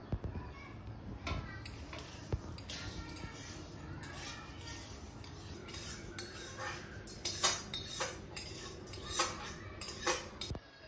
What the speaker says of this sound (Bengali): এরপর কলাইটা ঢেলে দেবো।